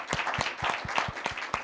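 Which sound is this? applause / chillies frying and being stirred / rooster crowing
applause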